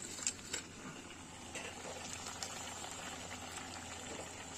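Vegetables bubbling in a pot for a small khoira fish chorchori, a low, steady simmering hiss with faint patter, soft and fairly distant throughout.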